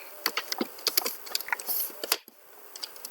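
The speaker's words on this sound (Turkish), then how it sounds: "Arkadaşlar mouse ve klavyenin sesi çok gelirse kusura bakmayın." Computer keyboard keys and mouse buttons clicking rapidly during a Minecraft BedWars match, loud close taps in irregular bursts with a brief pause near the end.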